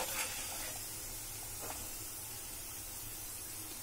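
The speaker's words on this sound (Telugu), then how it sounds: "మొత్తం ఇలానే అంత ఫ్రై చేసేసుకుందాం" Onion pakoda fritters with rice flour in the batter deep frying in hot oil, giving a steady close-up sizzle and hiss that runs evenly throughout with a few faint bubbling crackles and no voices.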